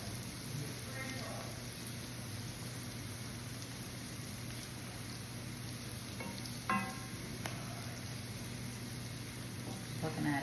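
Pork tenderloin and other ingredients sizzle steadily in a pan, a soft continuous frying crackle under a low hum, with a few brief clinks of a utensil along the way.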